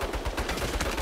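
Rapid turret gunfire in Saints Row, a fast burst of closely spaced loud shots filling a single second with no talk.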